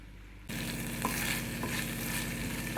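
Mustard seeds and cumin fry in hot oil as a tempering, a dense, even sizzle that starts abruptly and holds steady with a few faint pops, loud and close with no voices.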